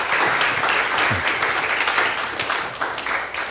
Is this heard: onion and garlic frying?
no